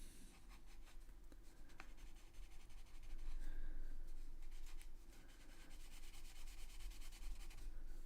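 A single pencil shading on paper for a portrait drawing, a soft continuous scratching and rubbing of graphite with quick back-and-forth strokes, faint and close, no talking.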